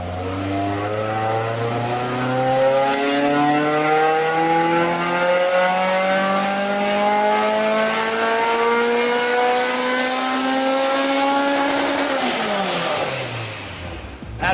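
Honda S2000 engine on a dyno at wide-open throttle from about 2,000 to 8,500 RPM with VTEC switchover, a loud, steadily rising howl that climbs without a break, then falls off quickly as the throttle closes.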